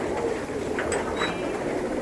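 Nearby flying pigeons make low, rumbling coos over a steady background hum, with a few faint higher chirps mixed in.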